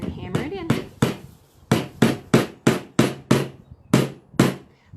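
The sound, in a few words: hammering a nail into a board for string art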